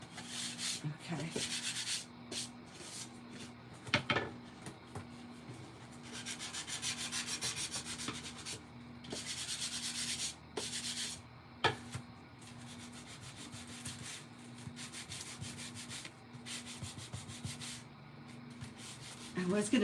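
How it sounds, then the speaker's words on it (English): Gritty sanding from an electric hand sander against wood comes in repeated bursts of a few seconds each, with a steady low motor hum running underneath throughout. "I have an electric sander, an electric hand sander."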